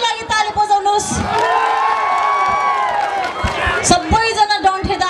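A live comedy audience erupts in cheering, whoops and shouts across a packed hall, a dense crowd roar with some clapping that swells in the middle and then breaks into scattered calls and claps.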